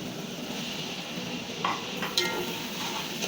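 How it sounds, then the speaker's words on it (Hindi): Tomatoes are stirred into chicken karahi with a spoon, giving a couple of brief metallic scrapes and clinks over a low, steady cooking hiss. "हमें टमाटर में चम्मच चला के मिक्स करके इसको 2 से 3 मिनट ढक देना है"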